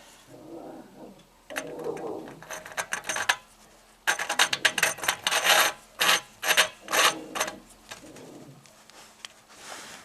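A fitting being screwed into an air compressor pressure regulator makes close, rasping metallic scrapes and grinding turns in uneven bursts, with short pauses between them.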